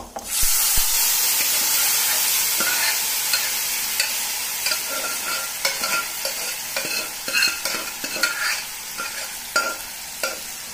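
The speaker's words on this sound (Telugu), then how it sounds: "ఇప్పుడు మనము ఈ తాలింపు పప్పులో వేయకుండా పప్పే తాలింపులో వేయాలి, అప్పుడు బాగా టేస్ట్ వస్తుంది. పప్పు అంతా తాలింపులో వేస్తాను." Cooked gongura dal is poured into a hot garlic tempering and crackles with a bright, hissing sizzle from the start, followed by close scraping and stirring strokes that knock irregularly as the sizzle gradually fades.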